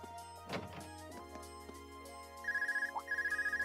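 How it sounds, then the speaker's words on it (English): A phone rings in Trails of Cold Steel, a quiet game scene with a soft chime and thunk before a repeating electronic trill that sounds twice near the end. "Phone call."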